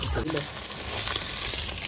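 Rohu fish frying in hot oil, a steady close sizzle and crackle that runs for the whole short stretch with little change in level.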